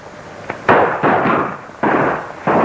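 Hand-grenade blasts in a 1935 military film serial come as several sharp, loud, booming bursts a fraction of a second apart, each trailing off into rumbling noise.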